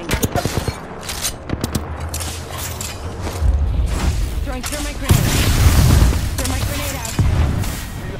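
Weapon handling in the Apex Legends battle royale game, a run of quick metallic clicks and clacks early on, then heavier rumbling bursts and booms of gunfire filling the rest, loud and close.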